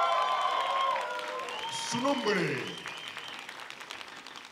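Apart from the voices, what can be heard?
audience applause for a contestant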